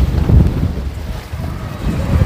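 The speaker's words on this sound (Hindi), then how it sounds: "आप देख रहे हैं कितनी तेज़ हवा है" Strong gusts of wind buffet the microphone outdoors in a rainy-season testing area, a loud continuous roar with surging low rumbles and no voices.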